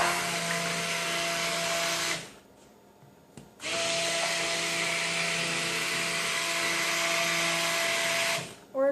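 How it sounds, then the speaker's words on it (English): Stick blender whirring as it mixes soap-making oils, a loud steady motorized whine in two long bursts separated by a short pause, then switched off near the end. "And then we're going to stick blend it"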